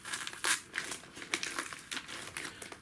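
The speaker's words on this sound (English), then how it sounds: "I'll cut it again." Plastic packaging for 1/10 scale RC on-road drift car wheels being cut and handled, with close crinkling and crackling in repeated bursts and a few sharper snips.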